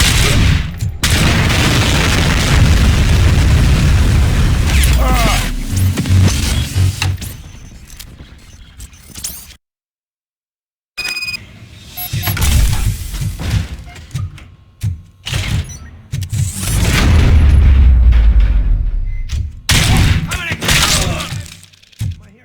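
Loud booming blasts and cracking bursts of gunfire amid chaos in the RoboCop and the Final Countdown video game, in uneven waves with a brief silent gap midway; voices shout faintly underneath.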